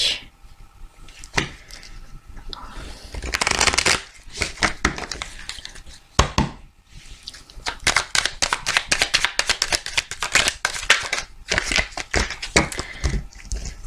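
Tarot cards are cut and shuffled by hand in irregular bursts of crisp riffling and slapping, close and fairly quiet, with pauses between the handfuls.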